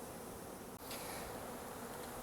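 Package honey bees at a machine shop hum in a dense, steady buzz from many insects close by, loud and unbroken apart from a momentary dropout.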